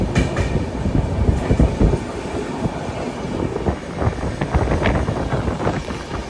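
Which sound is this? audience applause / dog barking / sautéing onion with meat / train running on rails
train running on rails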